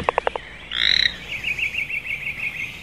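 Frogs croak close by: a quick run of four short croaks, then a buzzy rattling call, followed by a steady rhythmic trill of repeated notes.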